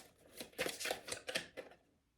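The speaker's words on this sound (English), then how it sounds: "Shuffle out a card to clarify that energy." Tarot cards are shuffled close by in a few quick riffling bursts, soft papery flutters that rise and fade over about two seconds, then the sound drops away to near silence.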